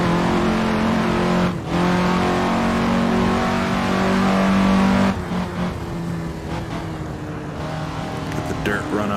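A 1950s Indy race car in the Assetto Corsa racing game accelerating down a backstretch, its loud, steady engine drone holding one rising tone, then dropping after a gear change before building again, with someone talking over it.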